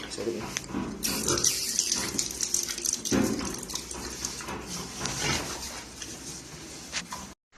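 A pig lies at a feeder, eating and drinking water, with wet slurping and splashing, snorts, and running-water sounds close by, and voices at times.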